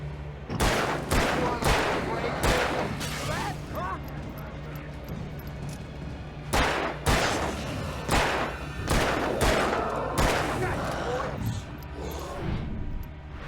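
Repeated gunshots in the video game Alan Wake, heavy reports every second or so over a constant rumbling backdrop, loud and close, mixed with other game noise and some voices.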